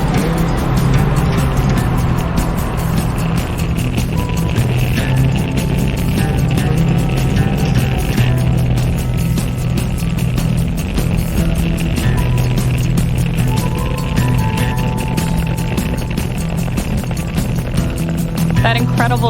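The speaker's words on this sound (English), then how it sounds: "Falcon 9 has successfully lifted off from pad 40" A SpaceX Falcon 9 rocket lifting off from pad 40, carrying the Indonesian Satria-1 satellite, produces a loud, steady, broadband roar with deep rumbling that holds without a break, while a voice talks faintly underneath.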